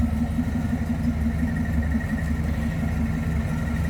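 The V8 engine of a 1967 Pontiac Firebird Convertible idles in a steady, deep rumble, close and continuous, with a low throbbing pulse and no other sounds.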